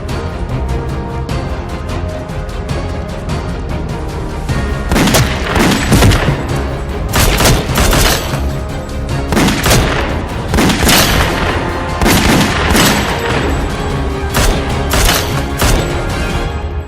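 Bursts of gunfire and heavy booming shots in a Thai action drama scene, loud sharp cracks arriving in irregular clusters over a tense background, with no speech.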